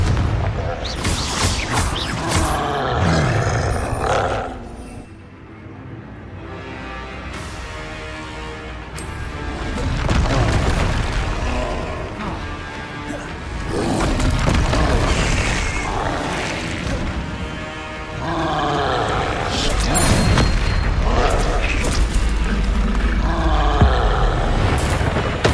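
Booming spell blasts from the Confringo fire spell in Hogwarts Legacy, loud bursts recurring over about 25 seconds amid other casting effects and game sounds, with a voice shouting spell names.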